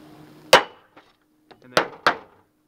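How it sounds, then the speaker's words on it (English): Steel hammer knocking a flat bar against the inside lip of a gutter: three sharp metallic strikes, one alone and then two close together, with a few faint taps between, near and clear against a quiet background. "If you take a flat bar and a hammer and knock on the inside of the lip"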